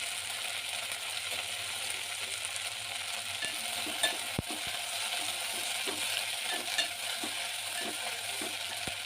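Fenugreek leaves stirred and fried in a pan over a high gas flame for methi bhaji: a steady, close sizzle runs throughout, with occasional scraping clicks and taps of the spoon against the pan.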